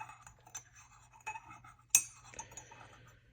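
A metal spoon clinks against a coffee cup in a home kitchen, a few light taps and scrapes, then one sharper ring near the middle, all close and quiet with no talking.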